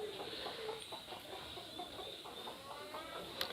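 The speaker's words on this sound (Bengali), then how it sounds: "বেশিরভাগ মুরগিগুলো উপরে থাকে, আর শুধু হাঁস দুইটা থাকে নিচে" Chickens cluck in a backyard coop shared with a few ducks, a steady close chorus of soft clucks and short calls over a hissy background, with no talking.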